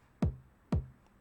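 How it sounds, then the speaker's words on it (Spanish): A kick drum run through the Devastor distortion plugin's Backseat Theater 1 preset, two punchy, saturated hits about half a second apart, each with a booming low thump and a gritty distorted tail, heard alone. "Y si pongo el primer preset, Backseat Theater 1, fíjate cómo cambia."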